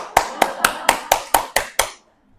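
One person claps hands firmly eight times in a steady, even rhythm during a talk at a Catholic parish church, each clap sharp and close, then the clapping stops into near silence.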